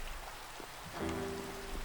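Steady rain falls in the Minecraft video game, a soft even hiss that holds throughout with no one speaking.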